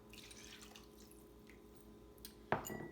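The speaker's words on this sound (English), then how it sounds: "you're going to add 3 cups of vegetable broth" Vegetable broth and unflavored almond milk pour into a soup pot for butternut squash pear soup, a brief, fairly loud liquid splash that starts late, after a near-silent stretch.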